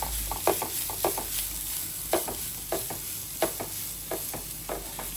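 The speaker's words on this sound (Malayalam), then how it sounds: "ചെയ്ത് വെച്ചേക്കുന്ന ചിക്കൻ നമുക്കിതിലോട്ട് ചേർത്ത് കൊടുക്കാം ജസ്റ്റ് ഒന്ന് ചൂടായതിന് ശേഷം എല്ലാം കൂടെ മിക്സ് ചെയ്യാം" Chicken with masala sizzles in a pan while a spoon stirs it, adding a rhythmic run of soft scrapes and knocks over the steady frying hiss.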